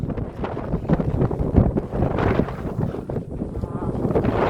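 Wind rumbles and buffets the microphone in uneven gusts, loud and close, mixed with indistinct voices, on a hill climb to Kankeshwar.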